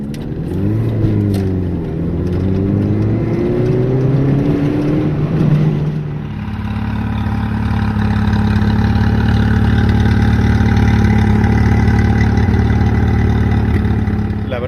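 Naturally aspirated engine of an Opel Corsa GSI blipped through a few quick revs that rise and fall, then settling into a steady, loud idle heard up close.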